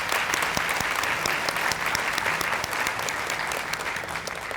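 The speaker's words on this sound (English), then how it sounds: "So if we could join me in a little round of applause" Sustained applause from an audience at a Teacher of the Year reception, with dense, steady clapping that fills the room at an even level throughout and fades only slightly near the end.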